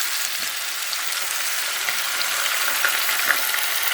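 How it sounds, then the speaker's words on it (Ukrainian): Steady, crackling sizzle of onion and potatoes frying in a pan, continuous and fairly loud with small pops. "У нас уже шкварчить цибулинка."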